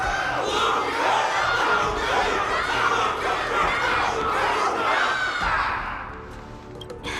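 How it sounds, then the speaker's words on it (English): A large crowd cheers and shouts in a Honkai: Star Rail cutscene at a wardance battle event, a loud, dense roar of many voices that holds steady and then eases off near the end. "Can't you hear? Everyone's cheering for you, Luca!"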